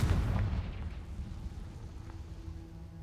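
A Confringo blasting curse explosion in Hogwarts Legacy: a heavy, close boom at the start that settles into a rumbling, crackling tail lasting a few seconds.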